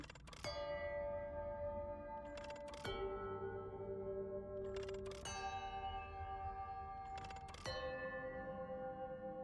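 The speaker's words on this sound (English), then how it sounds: "I really like the bell sound." Bells ringing in the Chants of Sennaar video game, four struck tones spaced a couple of seconds apart, each a bright attack followed by a long, shimmering ring that overlaps the next.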